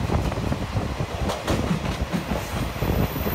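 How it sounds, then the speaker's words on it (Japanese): JR Shikoku KiHa 47 diesel railcar running on the Tokushima Line with its windows open: a loud, close rumble of wheels and wind with a rhythmic clatter over the rail joints. "列車は高徳線との並走区間を通り佐古駅に到着します。"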